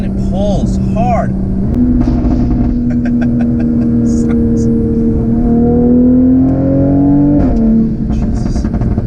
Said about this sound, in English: 5th gear and I'm giving it I'm giving it some throttle and it pulls hard.